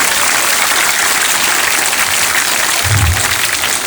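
A crowd at a Gujarati community event in Surendranagar applauds continuously, a dense, steady wash of clapping with no voices over it.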